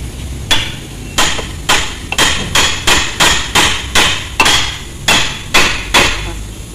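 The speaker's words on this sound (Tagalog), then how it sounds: "Martilyohin mo na." Hammer strikes on a Nissan Grand Livina suspension arm during a repair, about a dozen loud, near metallic blows in a steady rhythm, each ringing briefly, with no talking.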